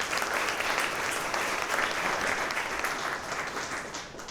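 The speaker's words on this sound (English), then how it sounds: "So give a round of applause for that." Steady applause from a sizeable audience at an AI event, dense and even throughout, easing slightly near the end.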